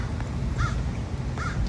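A crow caws twice, about a second apart, fairly near, over constant low outdoor noise.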